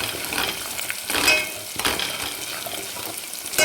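Spices hit hot oil over mutton being cooked with pumpkin in a pan, giving a steady close sizzle with scraping and stirring clatter as they are mixed in.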